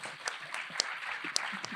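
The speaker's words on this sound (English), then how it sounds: "A round of applause for Nikki there." A conference audience at a session on EU due diligence policy gives brief applause: thin, scattered claps that stay fairly quiet, with a few sharper individual hand claps standing out.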